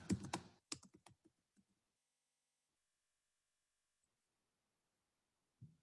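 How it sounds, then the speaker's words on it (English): Someone types "organic coffee" on a computer keyboard, a short quiet burst of close key clicks that fades into near silence, then a faint final tap. "I'm going to type in organic coffee."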